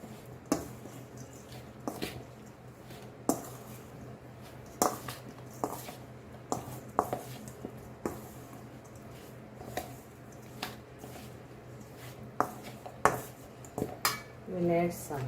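Raw mango pickle is stirred in a pot with a metal spoon, giving sparse clinks and scrapes against the vessel alongside soft wet squishing, fairly quiet and spaced a second or two apart.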